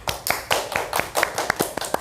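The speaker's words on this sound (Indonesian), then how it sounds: "Tepuk tangan lu dong." A small group of people clapping in a casual podcast-style setting, about eight sharp, evenly spaced claps over two seconds, close and fairly loud with no talking.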